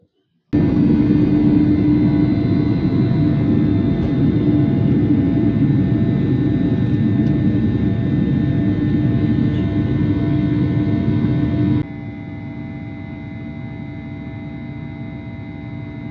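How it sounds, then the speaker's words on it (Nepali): A loud, steady passenger airplane engine drone hums without a break, then drops to a quieter, constant rumble near the end, heard from aboard a China Eastern flight from Kunming. "अब चाहिँ खुनमिनबाट प्लेन चढ्न लाग्यो प्लेन आयो"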